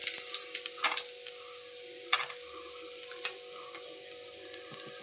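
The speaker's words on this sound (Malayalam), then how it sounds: "ഇനി അതിലേക്ക് 2 വറ്റൽമുളക് ഇട്ട് കൊടുക്കാം" Two dried red chillies drop into hot oil and sizzle softly and steadily, with light crackles and a few ticking pops over a constant frying hiss.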